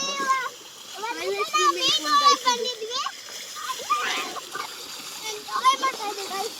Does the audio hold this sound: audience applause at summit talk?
no